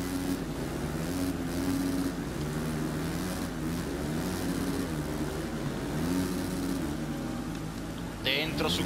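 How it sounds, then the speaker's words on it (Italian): Motocross motorbike engines in the MXGP3 video game racing in the rain, a buzzing revving drone that rises and falls with gear changes, with a commentator talking over it. "Mamma mia come drifta la moto."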